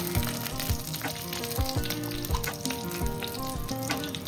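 Dried chillies hit hot oil already seasoned with nigella seeds, crackling and sizzling steadily up close with a busy popping texture and no talk.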